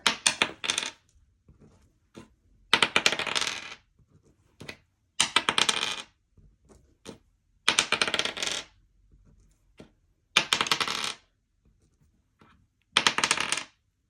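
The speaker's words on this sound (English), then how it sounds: "we're gonna roll the first dice to see how many times we get to roll" Dice tumble and rattle across a hard surface in about six separate rolls, each a loud, bright clatter followed by a short pause. Softer clicks of the dice being gathered come between the rolls.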